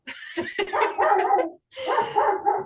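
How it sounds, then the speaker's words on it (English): A pet dog barks indoors in South Florida: two close bursts of loud, yappy barks separated by a short pause, with no talking. "that would be my dog Reggie saying hello to the world"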